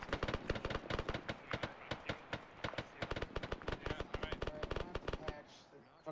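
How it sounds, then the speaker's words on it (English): Rapid bursts of machine gun fire in ARMA 3 crackle in a dense, steady stream of sharp reports for several seconds, then stop near the end, with faint voices beneath. "Fuck a machine gun"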